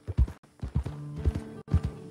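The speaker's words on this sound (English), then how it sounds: "You hear those horses?" Horse hooves clip-clop in a Red Dead Redemption 2 game scene, a quick uneven run of close thuds with a faint steady tone beneath.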